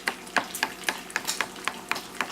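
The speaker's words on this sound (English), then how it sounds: "I'm gonna sit here and stir it. Yeah, I'm gonna spoon it." A spoon stirs a thick, barbecue-style sauce in a pot. About nine sharp scraping strokes come in a steady rhythm, each followed by a wet sizzle, close and fairly loud with no speech.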